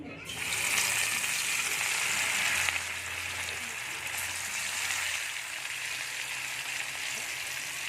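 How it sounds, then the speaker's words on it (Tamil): Fish pieces frying in hot oil for a Tamil-style fish fry, a steady loud sizzle that swells when the fish goes in and then settles into a constant crackling hiss, heard alone. "எண்ணெய் நல்லா சூடாயிருச்சு இப்போ நம்ம மீன் எடுத்து ஒன்று ஒன்றா போட்டு பொறிச்சு எடுத்துக்கலாம்"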